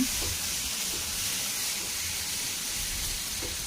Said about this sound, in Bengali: মশলা জিরে তেলের উপর দিয়ে ওই বাটা মশলাটা দিয়ে দিতে হবে